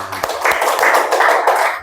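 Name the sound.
class clapping hands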